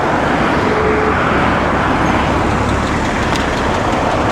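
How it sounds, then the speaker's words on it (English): Steady roar of road traffic passing close by, with engines and tyre noise forming a dense, continuous wash and no pauses, heard from a bicycle. "Bit more traffic."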